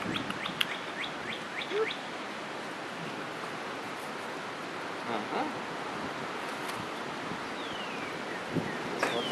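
Cockatiel wearing a leather harness outdoors on grass, giving scattered short chirps and tweets over steady broadband background hiss, with a few brief call bursts spread across the stretch.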